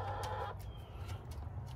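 Chicken clucking in short bursts close by, a few quick calls at the start and then softer scattered clucks against a quiet farmyard background.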